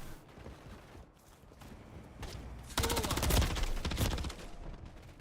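Video game gunfire in a team deathmatch, a dense burst of rapid automatic shots that lasts about a second and a half after quieter game ambience, then fades.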